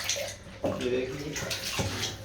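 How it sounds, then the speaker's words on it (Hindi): Fresh water poured into a homemade aquarium filter, a close splashing gush with a few surges and gurgles, loud and continuous. "ये भी फ्रेश वाटर डाला है इसमें"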